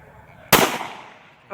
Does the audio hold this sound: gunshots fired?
yes